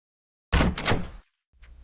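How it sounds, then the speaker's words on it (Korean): A front door opens with a short clattering burst of latch and movement, followed by silence and then a faint low rumble. "저는 현관문을 열어요."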